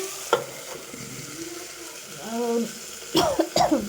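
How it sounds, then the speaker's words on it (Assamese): Hyacinth beans and potatoes fry in a pan, giving a steady sizzle with scraping stirs and utensil knocks near the end, and a brief cough-like sound. "এইফালে মই উৰহি আৰু আলুখিনি ভাজি আছোঁ"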